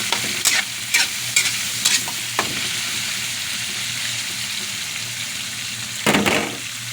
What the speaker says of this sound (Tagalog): Isunod na natin itong atay. Ayan. Ayan. Pagulong-gulungin lang natin sa mantika.